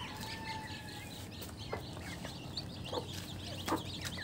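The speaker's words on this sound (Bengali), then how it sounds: "যে এখানে একটা মোরগ আছে" A rooster and a flock of young chickens roam a rooftop, with a few faint, scattered clucks and calls rising over steady background noise.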